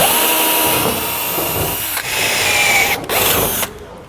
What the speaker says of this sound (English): We're going to grab a really small drill bit and drill out a pilot hole.